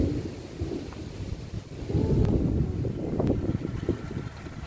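Thunder rolls steadily through rain and wind on a hill at Digos Hills, a broad, loud rumble that swells in the middle and lingers to the end.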